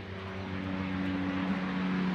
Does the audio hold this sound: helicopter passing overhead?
yes